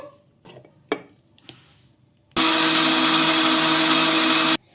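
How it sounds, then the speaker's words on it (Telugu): A few sharp knocks, then a loud, steady mixer grinder whirring for about two seconds, grinding dosa batter with water, before cutting off abruptly. "ఇప్పుడు కొంచెం మరి నీళ్ళు అయితే వేసుకొని మిక్సీ అయితే పట్టేసుకుందాము"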